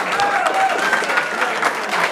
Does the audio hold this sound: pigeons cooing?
no